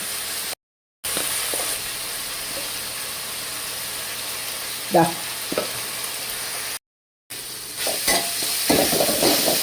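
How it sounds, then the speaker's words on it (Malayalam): A spoon scrapes and stirs through masala gravy with salt and turmeric in a pan, soft scraping strokes over a steady low sizzle and background hum, with brief gaps of silence. "ഇളക്കി കൊടുക്കാം പച്ചമണം ഒന്ന് പോയാൽ മതിയേ"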